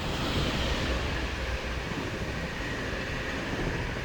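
Belgian class 11 locomotive hauling a Benelux rake of Dutch intercity carriages between Amsterdam and Brussels-South, a steady broadband rumble and roar with wind noise, sustained and fairly loud throughout without any talking.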